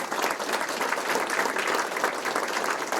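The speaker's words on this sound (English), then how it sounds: "If you would help me give them a round of applause." A room of people at a credit union's annual members' meeting claps steadily and evenly for about three seconds of dense, continuous applause with no voices over it.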